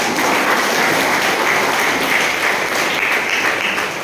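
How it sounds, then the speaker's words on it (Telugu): An audience at a motivational talk claps loudly and continuously, a thick, even wash of applause that barely changes for several seconds. "క్లాప్స్ ఇవ్వచ్చా?"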